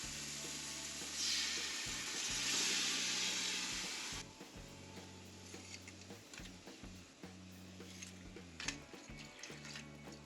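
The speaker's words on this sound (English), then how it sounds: "I'm gonna go ahead and add my liquid." Red wine and beef stock poured over braised short ribs, a steady liquid splash for about four seconds, then quieter sizzling and bubbling with light clatter, no talk.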